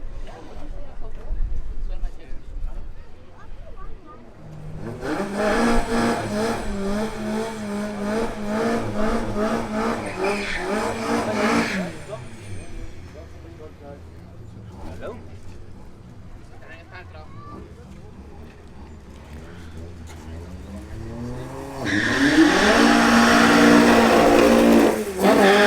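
A tuned VW Golf races at Killarney, its engine revving hard up through the gears and holding power through a no-lift shift into fourth. Two loud, close, strained engine runs are separated by a quieter stretch.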